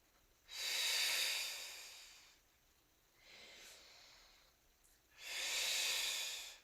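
Three long, hissing breaths pass close to the microphone during a strength flow class with weights and a foam roller, an inhale, a softer exhale, then another deep inhale, with no speech over them.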